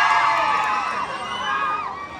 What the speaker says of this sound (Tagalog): malakas na hiyawan dyan.